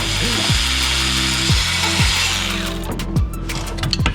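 A wrench ratchets loose a V-band clamp on a hot Toyota Supra exhaust near the catalytic converter, a loud, close run of repeated clicking strokes with metallic rattles toward the end.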